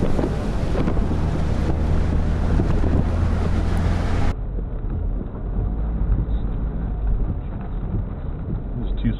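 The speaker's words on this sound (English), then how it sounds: "Yeah, it's windy here." Strong wind buffets the microphone in a continuous heavy rumble throughout, outdoors during storm chasing in Tornado Alley, with the roar easing somewhat partway through but never stopping.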